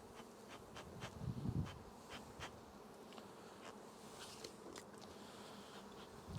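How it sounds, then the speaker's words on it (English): Honeybees drone steadily at an open beehive while the hive is smoked and cleared for a feeder, a soft, continuous buzzing from many insects, close by and unbroken, with faint handling noises. "I'm trying to get all the bees off the edge,"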